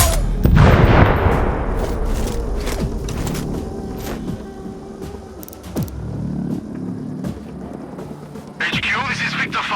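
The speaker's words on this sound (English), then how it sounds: "Explosion heard." A heavy blast booms up close in the video game Sniper Ghost Warrior Contracts 2, followed by scattered bursts of gunfire and rumbling crashes, with a fresh explosion near the end.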